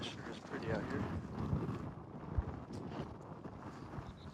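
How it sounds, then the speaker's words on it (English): Strong wind buffeting the microphone beside an open mountain creek while fly fishing for native trout, gusty low rumble with bursts and thumps, moderately loud throughout. "It also is extremely windy."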